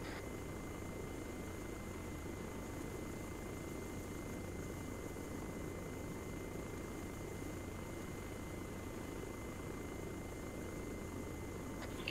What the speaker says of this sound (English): Jeff's on the helicopter